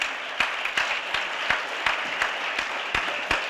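An audience at a Southern Connecticut State University event gives a round of applause, a steady wash of many hands clapping with a few louder individual claps standing out near the microphone.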